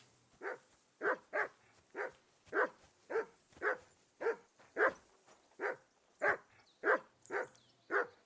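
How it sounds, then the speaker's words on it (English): A dog barking in the video game Kingdom Come Deliverance 2, a steady series of about a dozen fairly close barks at a regular pace with no other sounds. "Whistle at that mutt of yours to stop barking!"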